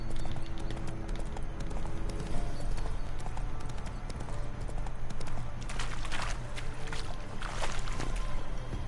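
Rapid hoofbeats of a galloping horse in The Witcher 3: Wild Hunt patter steadily over a constant low hum, fairly quiet, with a few sharper splashy bursts near the end.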